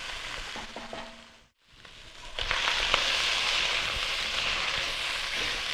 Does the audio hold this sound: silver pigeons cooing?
no